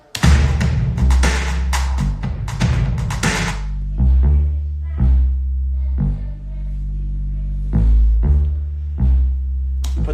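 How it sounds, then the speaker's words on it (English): A deep, sustained bass line plays repeated low notes in a slow rhythm, loud and close, with busy percussive hits at the start that thin out so the bass notes stand mostly alone. "We have bass."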